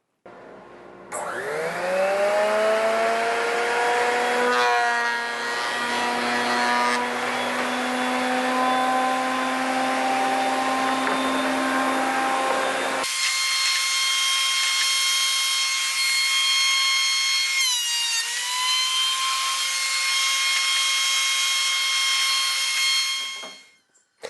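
A wooden board runs through a thickness planer, a loud close mechanical roar with a rising motor whine as it spins up, then a shift to a steadier higher hum before winding down at the end.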